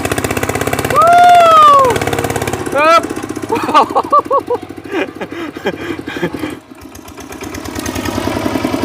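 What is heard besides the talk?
tractor engine running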